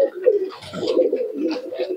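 Pigeons at a pigeon sale market in Murshidabad coo in throaty, rolling bursts, close and fairly loud, with the soft calls overlapping continuously.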